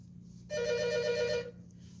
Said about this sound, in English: I don't know why this phone's ringing, but I'm not going to go answer it yet.